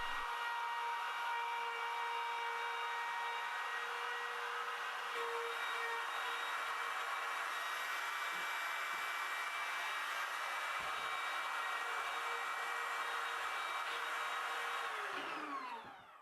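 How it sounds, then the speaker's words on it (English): A router cuts away the bulk of the wood for a wood-and-steel coffee table, giving a loud, steady high-pitched whine that runs unbroken for about sixteen seconds and then spins down at the end. "then I can take the router and remove the bulk of the material"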